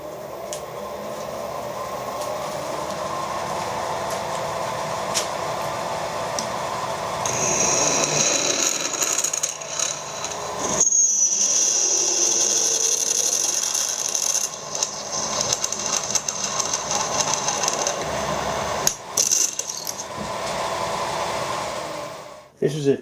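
An 8.5 mm cobalt drill bit cuts into stainless steel with a steady, loud grinding whine and a high sustained squeal that lasts around twelve seconds. The drilling then stops and starts again, with no talking.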